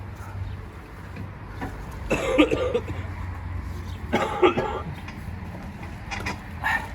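A man coughs in two harsh, close bursts about two seconds apart, with lighter throat noises between them, over a low background rumble.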